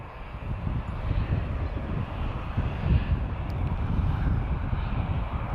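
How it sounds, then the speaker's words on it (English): A TAP Express Embraer E190 jet at Lisbon Airport rumbles with a low, steady engine roar and some wind buffeting, moderately distant and constant throughout. "This is an Embraer E190 long range."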